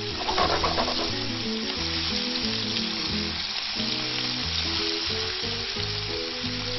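Fresh-caught squid fries in a pan with a touch of oregano, giving a dense, continuous crackling sizzle heard up close throughout, with no talking.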